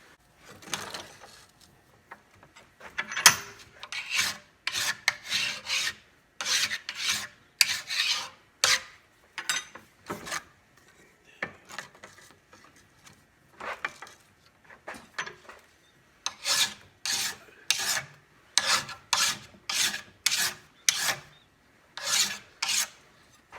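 A file rasps in repeated strokes along the edges of a Homelite XL12 chainsaw bar, taking off burrs; the scraping comes in steady bursts with short pauses, close and fairly loud, with no talking.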